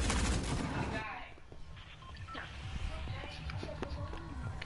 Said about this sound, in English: The guns go brrrr, ka ka ka ka ka ka ka ka ka ka ka ka ka ka